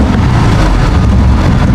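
A 1930s Buick running with a BMW drivetrain, its engine a steady, loud, rumbling idle heard close up with some wind buffeting on the microphone.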